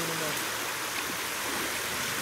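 Rushing water of a swollen mountain creek (quebrada) on the Río Miel, a steady broadband roar filling the whole clip, close and continuous with no breaks.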